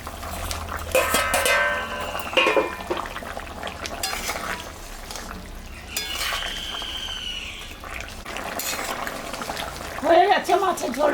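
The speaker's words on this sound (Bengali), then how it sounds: "ঢাকাটা তুলে নিলাম, ঝোলটা ফুটে গেছে" A small-fish curry broth bubbles in a pot once the lid comes off, with a soft boiling hiss, occasional clinks of utensils and a voice speaking now and then.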